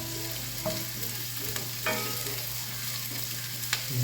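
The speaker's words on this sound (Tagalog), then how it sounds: "Kiwar-kiwar ko para pare-parehas din yan, magsama-sama." Squash and turkey meat sizzling in a pan as a spatula stirs them, a steady close frying hiss broken by a few scraping stir strokes, with no voices.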